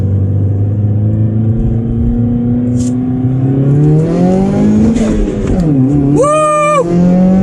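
A 2017 Subaru WRX running E90 ethanol revs hard on a dyno, its loud engine note climbing steadily through the gears, dipping briefly between shifts and rising again, with a short whine and a voice faintly audible underneath.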